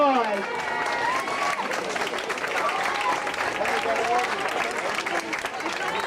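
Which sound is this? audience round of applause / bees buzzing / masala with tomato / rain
audience round of applause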